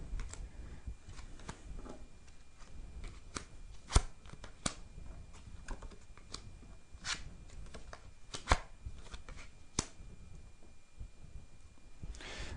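Tarot cards shuffled and handled at a live French fortune-telling broadcast, a steady soft papery riffling with occasional sharper slaps and taps, faint and close, with no talk over it.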